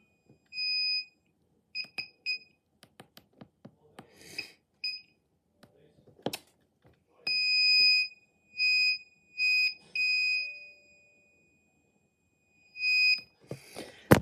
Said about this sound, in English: so the buzzer, obviously, it's just a buzzer.